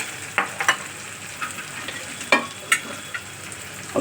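Chickpea tadka frying in a pan, a soft continuous sizzle with several sharp stirring scrapes and clinks spaced irregularly, close and fairly quiet, with no talking.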